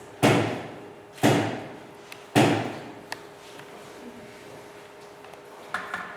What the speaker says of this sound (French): je vais donner 3 coups pour ouvrir la séance